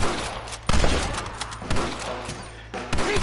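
Gunfire breaks out in Red Dead Redemption during a standoff: several loud, separate shots ring out at irregular intervals, each a sharp crack followed by a short echoing tail, with low background noise between them.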